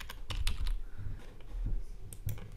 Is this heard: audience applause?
no